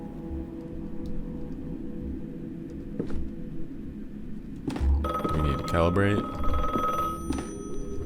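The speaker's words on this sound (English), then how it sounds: "We got a phone call." A telephone rings inside a horror video game, a loud repeating electronic bell that rises clearly over a steady low ambient drone, with someone talking around it.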